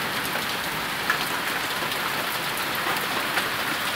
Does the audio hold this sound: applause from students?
no